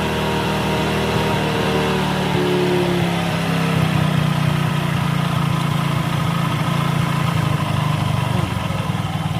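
Hero Super Splendor motorcycle engine idling after a carburettor air-screw tuning, a loud, close, steady low rumble with an even rhythmic putter that holds smooth throughout.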